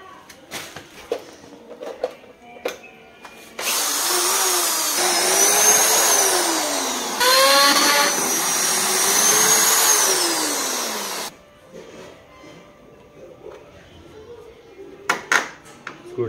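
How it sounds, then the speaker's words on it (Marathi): An electric drill machine runs in a long whining burst, its pitch rising and dipping as it bites into the work, then cuts off; clattering and handling noises come before and after, and people talk nearby. "आणि आता ड्रिल मशीन आपल्याला"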